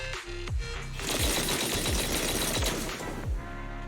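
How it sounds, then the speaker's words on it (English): Heavy cannon fire in the video game Zenless Zone Zero: a series of loud, booming blasts with descending whooshes and dense rattling impacts, rapid and continuous for several seconds, with no speech. "That was the sound of a heavy cannon?"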